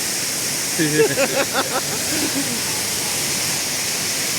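Sanaghagra waterfall in monsoon season, a steady broadband roar of falling water heard throughout, with a short burst of talking partway through.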